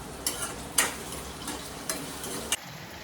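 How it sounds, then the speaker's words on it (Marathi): Onion and tomato fry slowly in oil over medium heat for a whole masoor dal dish, a soft, even sizzle broken by a few crisp spoon taps and scrapes against the pan. "कांदा आणि टमॅटो छान मी स्लो मिडियम भाजायला ठेवलेला आहे तेलामध्ये"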